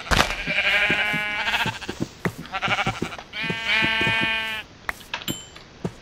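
A Minecraft sheep being punched gives repeated loud, wavering bleats in several bursts, interleaved with sharp hit thuds from the game.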